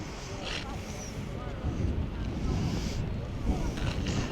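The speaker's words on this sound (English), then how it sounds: "it's a bit too windy" Gusty coastal wind near St Michael's Mount, Cornwall, buffets the microphone in a steady low roar, swelling and fading over a few seconds with no other clear sounds.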